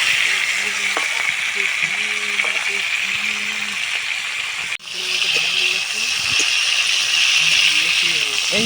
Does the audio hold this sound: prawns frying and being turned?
yes